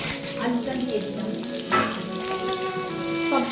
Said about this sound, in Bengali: সবটাকে একসাথে ভালোভাবে ভেজে নেব